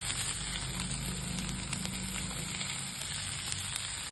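Coarsely ground paste frying with curry leaves in a pan for a radish dish, a steady crackling sizzle at low volume, close and continuous without pause.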